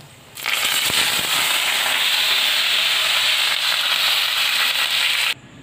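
Whole cumin, dried chillies and curry leaves hitting hot oil, a loud, steady crackling sizzle that starts abruptly, holds unbroken for about five seconds, then cuts off.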